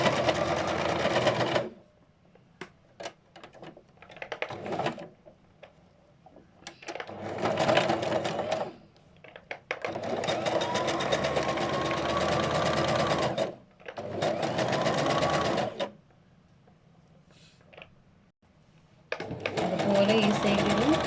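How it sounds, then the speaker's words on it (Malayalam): An electric sewing machine stitches fabric in several loud, close bursts of rapid mechanical whirring, separated by short quiet pauses while the cloth is repositioned. "ഇനി മറ്റൊരു ഭാഗത്തും അതേപോലെ ഞങ്ങൾ സ്റ്റിച്ച് ചെയ്യാം."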